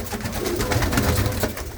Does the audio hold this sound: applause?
no